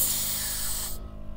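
Compressed air hisses loudly and continuously into a punctured car tyre, a broad steady rush that abruptly stops near the end, leaving quieter background noise.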